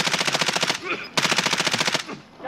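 Rapid machine gun bursts from a video game firefight, two long sustained strings of loud, close automatic fire separated by a short pause, with no talk over them.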